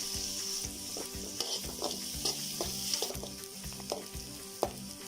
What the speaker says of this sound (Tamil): வெங்காயம் பார்த்தீங்கன்னா தெரியும் நல்லா கலர் மாறி வதங்கியிருக்கு